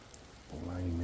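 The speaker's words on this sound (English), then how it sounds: "Still raining quite a bit." Steady rain patters on surfaces at night in a cemetery as a soft, constant hiss. Partway through, a person starts talking over it.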